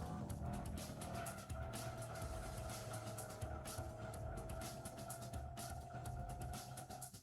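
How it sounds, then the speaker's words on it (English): A Dodge Viper drifting in the video game Gran Turismo 2, with its engine holding a steady droning tone while tires squeal continuously under a faint, even roar. "I gotta maintain the drift in here."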